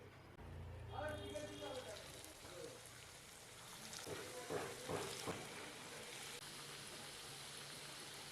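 Egg sticks fry in hot oil with a steady, crackling sizzle like rain. A few louder spatters come early as the pieces go in, then the sizzle settles to a constant hiss.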